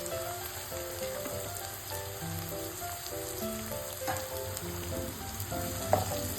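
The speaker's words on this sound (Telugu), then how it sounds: "బెండకాయలను కూడా ఆయిల్లో మంచిగా ఫ్రై చేసుకోవాలి." Cut okra (bhindi) fries in plenty of hot oil, giving a continuous crackling sizzle like light rain. Occasional utensil clinks and soft stirring sounds come through, and tonal background music plays quietly beneath.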